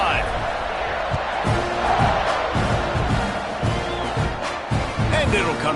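A packed college football stadium crowd at a Penn State Nittany Lions game roars in a steady, loud wash of cheering after a scoring drive, with a commentator talking over the din.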